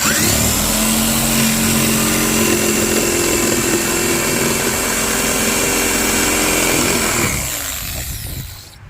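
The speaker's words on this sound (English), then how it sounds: "The thing about cutting it with the skill saw is it comes out really smooth" A handheld circular skill saw rips through a sheet of 3/4-inch plywood for a Ga Ga pit octagon, a loud, close, continuous whining buzz that holds for about seven seconds, then winds down as the blade leaves the wood.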